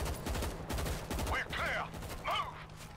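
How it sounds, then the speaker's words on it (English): Rapid machine gun fire rattles in bursts in the zombie shooter video game World War Z, with a person speaking over the shots. "Machine gun."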